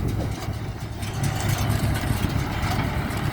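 A steady, rumbling International tractor engine idles nearby, a low continuous drone with no speech.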